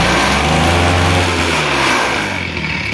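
A Spider Mower slope mower, an abandoned machine, runs steadily with its centrifugal clutch engaged and blades on, a loud continuous engine drone with mechanical rattle close by.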